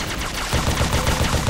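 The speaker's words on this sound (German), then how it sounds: "Aber ich schieße immer noch mit meiner Pistole" Rapid, steady pistol gunshots in Halo CE, a dense run of evenly spaced cracks that grows louder partway through and keeps a fast rhythm, with no voices over it.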